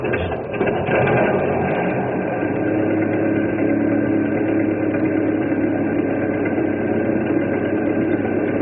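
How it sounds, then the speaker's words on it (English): An old houseboat engine catches and settles into a steady, loud mechanical chugging idle, continuous and close after a brief start. "I'll crank up this old engine and we'll cross over and pick them up."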